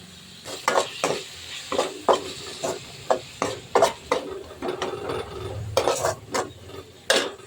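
Tomato and curry leaves are sautéed in a pan for chicken liver gravy, stirred with a utensil that clatters and scrapes in repeated sharp strokes over a low sizzle, with no one speaking.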